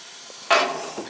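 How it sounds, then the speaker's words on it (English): Ice cubes dropped into a hot oven beside baking homemade bread set off a sudden burst of steam hissing, close and fairly loud, tapering off over the next half second with no talk. "to help create some steam while our bread bakes, I'm gonna put some ice in there"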